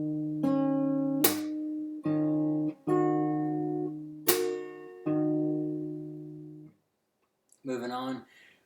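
Fingerstyle guitar plays a sequence of plucked notes and chords with slaps on the bass strings, each ringing and decaying, followed by a brief pause and a short voice at the end.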